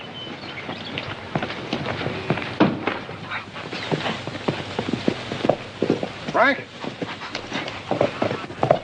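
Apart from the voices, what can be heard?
horse hooves clip-clopping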